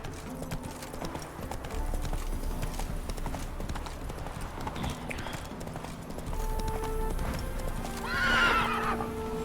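Horse hooves clip-clop at a gallop across fields in The Witcher 3, a steady rhythmic pounding under game music, ending with a loud whinny near the close.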